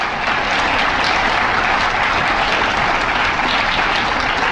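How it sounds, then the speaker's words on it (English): Applause from a crowd of attendees at Fighting Bob Fest, a political gathering in Milwaukee, as dense steady clapping that fills the whole stretch at an even level with no voices. "Could we get a round of applause for my friend Sarah for putting this great event together?"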